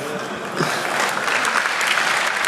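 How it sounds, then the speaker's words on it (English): An audience claps steadily and densely for about two and a half seconds, swelling slightly partway through, with no speech over it. "Why is the audience laughing and clapping here?"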